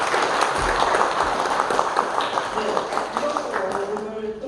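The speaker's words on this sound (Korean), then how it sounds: "네 분의 토론자에게 여러분 감사의 박수" Dense, sustained audience applause thanks a presenter and four panelists at the close of a Chungcheongbuk-do provincial council policy debate, filling the room steadily with some voices mixed in.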